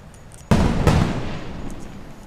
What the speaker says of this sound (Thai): เมื่อกี้โอ้โหมี fireworks มีพลุนะคะเก๋ไก๋มาก